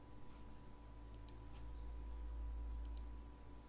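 Keys tapped on a computer keyboard enter the DAR shortcut in AutoCAD as a few soft clicks in two small clusters, faint against a steady background hum.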